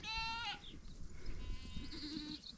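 Goats on a farm bleat, one clear wavering call up front followed by fainter bleats and bleating mixed with farmyard noise and shuffling over a couple of seconds.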